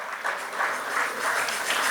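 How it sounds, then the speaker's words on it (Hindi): A short burst of steady audience applause for the Leo team at a Deep Utsav installation ceremony, dense and moderately loud, lasting just under two seconds. "जोरदार तालियां लियो टीम यार"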